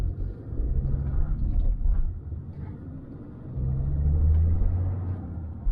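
A Land Rover Discovery drives along with a steady low engine rumble and road noise from inside the cabin, the pitch dropping and rising again as it changes up through the gears.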